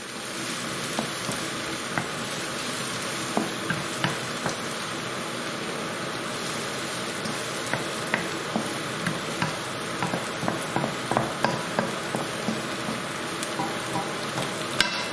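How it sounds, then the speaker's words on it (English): Onions softening in a pan for a BIR chicken rogan josh make a continuous, moderate sizzle, with frequent light clicks and scrapes as they are stirred, with no voices. "Don't want them to stick to the pan, so just keep stirring it."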